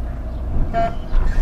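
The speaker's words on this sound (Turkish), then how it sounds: "Bir korna bas ortaya." A driving-school car on a beginner's first lesson gives one short, quick horn toot over a steady low engine and road rumble, heard close from inside the vehicle.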